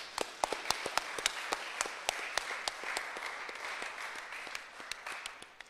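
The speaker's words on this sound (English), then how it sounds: "Can we get a round of applause for the board as well," Audience applause for the Guam Election Board Commission at a resolution presentation ceremony, a steady wash of many hands clapping with distinct sharp claps standing out, moderately loud throughout, tapering slightly at the end.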